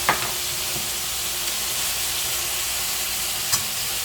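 Curry of potatoes, cauliflower and rohu fish sautéing in a pan, with a steady loud sizzle and hiss throughout and a couple of stirring clinks.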